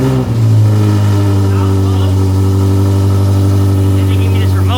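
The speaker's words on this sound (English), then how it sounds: "Exhaust is on Azora Motorsports M5" A BMW F90 M5 with a newly installed aftermarket exhaust revs up once and then holds a loud, deep, steady drone close to the microphone.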